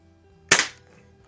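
A Tech Force TF-79 CO2 target rifle fires a single sharp, close crack with a brief decay in a quiet room, the pellet hitting a paper target.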